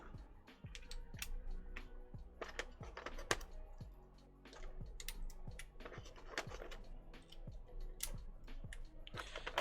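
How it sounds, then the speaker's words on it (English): UK ISO keycaps pressed one after another onto a Matrix ME keyboard, a run of close, crisp plastic clicks and taps with short pauses, no talking. "Let's put the UK ISO keys on first."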